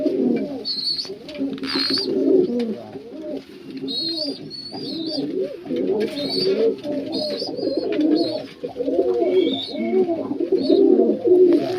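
Pet pigeons in a loft coo continuously, with soft, repeated throaty rolls close by and a few higher chirps and rustles over them.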